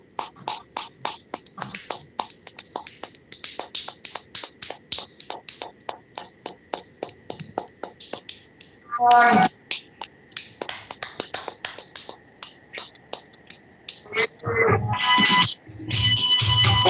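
Rapid, steady taps from clapping with one finger against the palm during a yoga session, many light crisp clicks in quick rhythm, with brief talking partway through and at the end.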